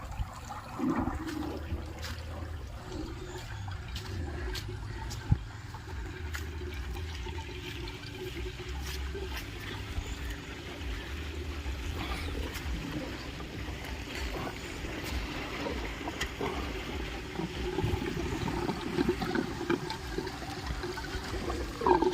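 Irrigation water gushes steadily out of a channel into farm fields, a continuous rushing, splashing flow that stays close and fairly loud for the whole stretch, with no talking over it.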